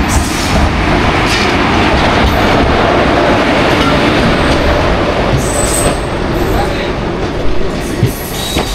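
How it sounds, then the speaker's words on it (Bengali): A passenger train bound for Rampurhat pulls into Kopai station, a loud, close rumble of wheels and rail clatter with occasional squeals, while voices murmur faintly underneath. "আর আমাদের ট্রেন ঢুকে গেছে এখন রামপুরহাট যাওয়া ট্রেন।"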